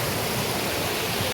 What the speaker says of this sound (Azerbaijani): Bu da şəlalənin özü,